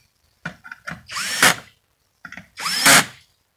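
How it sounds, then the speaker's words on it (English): Screw gun driving screws into a Winegard Trav'ler satellite turret during a loose bearing fix, two loud close bursts of motor whine with brief stuttering starts. "Don't go too tight with your screw gun."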